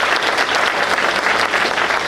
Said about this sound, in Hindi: इनके लिए जोरदार तालियों से लोगों का स्वागत करें